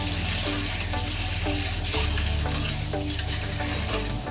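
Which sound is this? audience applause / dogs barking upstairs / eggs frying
eggs frying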